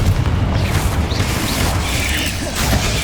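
Spell blast of Confringo in the video game Hogwarts Legacy on PS5: a loud, dense booming burst that fills the whole clip, with crackling rumble throughout and no clear break.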